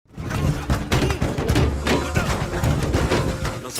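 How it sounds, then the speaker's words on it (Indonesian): In a violent scene from an Indian action film, stones smash the glass of a police station, a loud, continuous din of crashes, thuds and shattering that fills the whole stretch without letup. "Mereka melempari kaca dengan batu."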